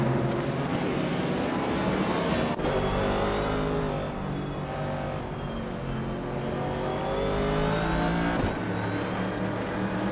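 Race car engines roar through a race in a racing video game, including a Shadow DN4, a loud sustained drone with shifting pitch as gears change, steady throughout with no talk.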